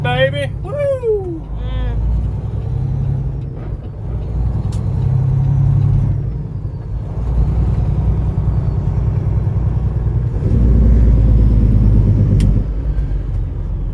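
A Detroit-powered Peterbilt 389 truck with an 18-speed transmission drives with a deep, steady engine rumble heard from inside the cab. The engine swells louder at times, and voices talk over it.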